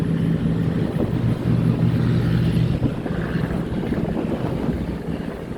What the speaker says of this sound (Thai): เรือโป STR นี่มาจากทะเลนะคะ